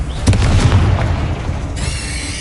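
A Confringo fire spell bursts in Hogwarts Legacy with a heavy, rumbling boom that rolls on and then tails off into a thinner hiss.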